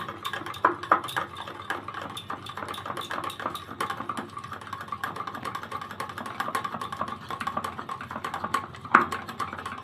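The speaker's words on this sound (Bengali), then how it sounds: "5 মিনিট ভালোভাবে ফেটিয়ে নিব।" Semolina batter whisked by hand in a bowl: rapid, steady clicking taps continue for about ten seconds, close and fairly clear, with no speech.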